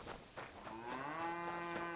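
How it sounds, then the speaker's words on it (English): A cow lets out a single drawn-out moo in Kingdom Come Deliverance 2, a clear, fairly quiet lowing call rising then holding, heard alone over faint background ambience. "Yep, moo indeed."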